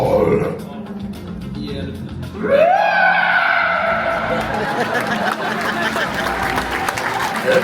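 A crowd of visitors at Disney's Animal Kingdom raise their arms and imitate an elephant's trumpet call, letting out a loud, rising group blare that holds for several seconds. A voice leads them beforehand.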